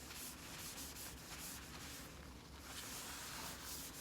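Microfiber cloth rubbing nutmeg gel stain onto a Quikwood veneer repair, a steady close scrubbing hiss that continues without a break and without talk.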